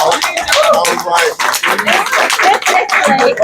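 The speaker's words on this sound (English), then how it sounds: "Give me a little applause." Small group applause at a community gathering, a few seconds of uneven clapping mixed with talking voices.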